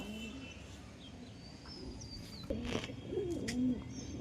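Desi Giribaz pigeons coo softly near the end, two short low calls over a quiet, hissy background, with no one talking.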